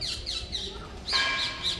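Parrots screech and chirp in the trees, sharp high calls in quick succession close by, loud with a dense burst in the second half.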